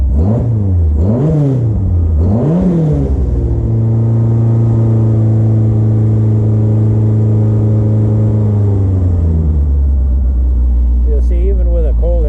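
A cold Fiat Spider engine, converted to fuel injection, is blipped through three quick revs that rise and fall sharply. It then holds a loud, steady, elevated rev for several seconds before settling back down, close and with no talk.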